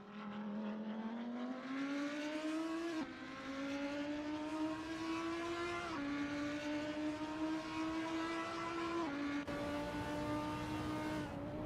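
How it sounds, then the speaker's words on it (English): GT3 race car engine roaring around the Spa circuit, a loud sustained howl climbing through the gears in several pulls, each ending in a sharp drop at the shift, with no voices over it. "Lights are out, engines roaring"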